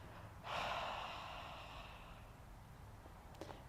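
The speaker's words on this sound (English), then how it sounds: "And with exhale, Ujjayi breath" One long, slow Ujjayi exhale during a yoga practice, a soft rushing breath starting about half a second in and fading gradually, close to the microphone in a quiet room.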